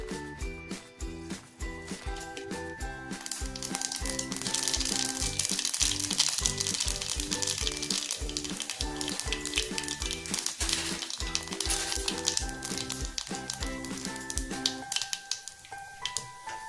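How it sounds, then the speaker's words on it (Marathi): Cumin and mustard seeds hit hot oil and crackle loudly up close, a dense run of sharp pops and spitting sizzle that carries on steadily, with no voices. "आपलं तेल तापलं आहे तर आपण सगळ्यात पहिला आपण त्याच्यामध्ये घालून घेऊयात जिरे मोहरी"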